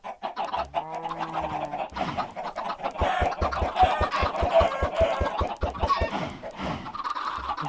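Chickens in the video game Minecraft Java Edition cluck in quick, repeated bursts, loud and close, with a clipped rhythmic run of clucks through the middle over a faint background.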